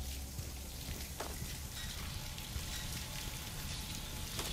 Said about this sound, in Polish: To jest tak zwana deszczownica sufitowa.